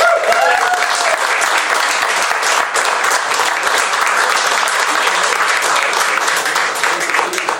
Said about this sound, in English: A big round of applause for Eamon Carr.